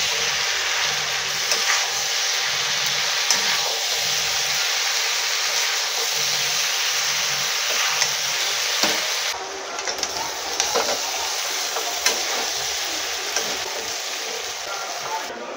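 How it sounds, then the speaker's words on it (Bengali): Jackfruit, potato and chicken sautéing in a pan, a steady hissing sizzle with faint scraping and stirring clicks throughout, close and continuous with no talking. "ভেজে রাখা এঁচড় আর আলুটাও দিয়ে দেবো। আরও কিছুক্ষণ কষে নেবো।"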